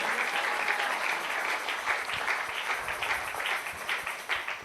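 A church congregation applauds the Lord with sustained, dense clapping from many hands, steady and lively throughout with no talk.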